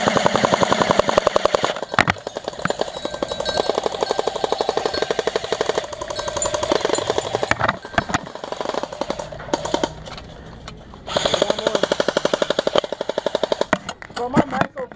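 Airsoft gun firing in fast repeated bursts, sharp rattling shots in dense strings with short pauses between volleys, loud and close.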